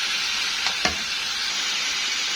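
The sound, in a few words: minced meat with peppers and garlic frying, stirred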